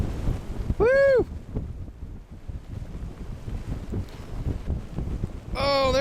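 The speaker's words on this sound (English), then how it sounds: "Oh, there's a gust over 40." Strong wind gusts over 40 during a blizzard in Woodward, Oklahoma, roaring and buffeting the microphone in a steady rush, with a couple of high whistling or whooping sounds breaking through.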